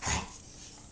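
A dog gives a single short bark or yelp indoors, close and brief, then quickly fades to quiet room tone.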